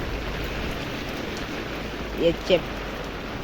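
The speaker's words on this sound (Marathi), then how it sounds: "पाऊस चालू आहे बघा." Steady rainfall outdoors makes an even, moderate hiss throughout, with a voice briefly breaking in near the end.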